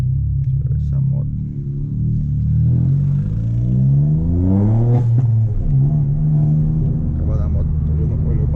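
A Chevrolet Onix 1.0 turbo with a sport exhaust and downpipe rumbles loudly at night, revving up and down in deep throaty sweeps from close by, with a voice talking over it.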